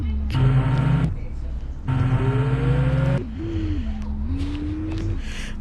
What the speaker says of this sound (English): Oh shoot. My car is drifting.